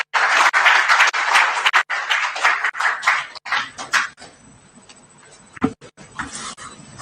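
Audience applause at a public budget forum welcoming a speaker to the podium: a burst of many hands clapping that rises loudly, then thins out and fades into scattered claps and room noise.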